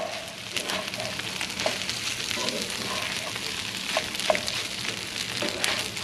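Egg and day-old rice sizzling and frying in a pan while being folded over, a steady close crackle with a few scraping clicks from the utensil, no talking.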